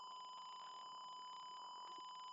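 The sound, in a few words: buzzer of gas sensor pollution alarm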